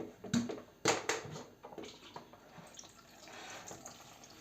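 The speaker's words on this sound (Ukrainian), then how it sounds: "Я ще в одній воді промию" Water splashes and sloshes as cucumbers are rinsed by hand, with a few sharp knocks at the start and then softer trickling and swishing.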